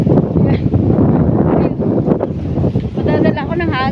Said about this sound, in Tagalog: Lakas ang hangin dito sa tulay